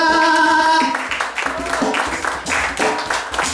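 Children in a storytelling session applaud together, a loud burst of clapping that starts after a brief tonal note and carries on with uneven swells.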